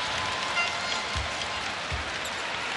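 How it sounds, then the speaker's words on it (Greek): Arena crowd applauding during a basketball World Cup semifinal between the USA and Greece, a dense steady wash of clapping with two soft low thumps. "Το γήπεδο χειροκροτά"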